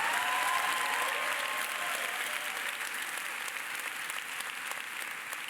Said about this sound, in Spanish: si vas a aplaudir, hazlo con más ganas